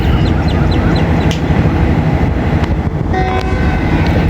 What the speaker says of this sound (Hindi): इनिशियल डिपार्चर विसल हो गया